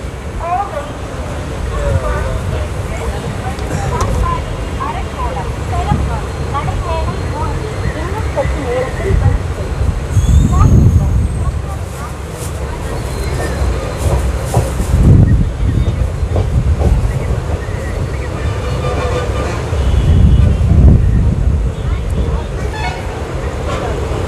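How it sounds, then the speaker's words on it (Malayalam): The West Coast Superfast Express pulls out of Jolarpettai station, heard from inside a sleeper coach as a loud, continuous rumble with rhythmic wheel clatter, short horn toots and voices talking nearby. "ജോളാർപേട്ടയിൽ നിന്ന് ട്രെയിൻ ഡിപ്പാർട്ട് ചെയ്തു."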